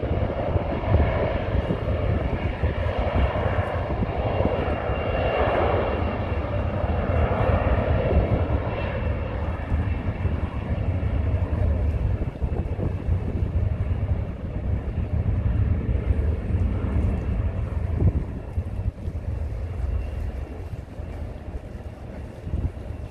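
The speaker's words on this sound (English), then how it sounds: "Can you guys hear it when those engines roar?" Airplane engines roar at San Francisco International Airport, a loud, continuous broadband rumble that swells and fades slightly over time, heard outdoors with no clear talk over it.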